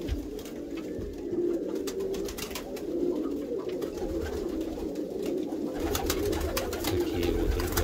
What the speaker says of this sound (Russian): небольшой обзор голубей, в принципе, надеюсь.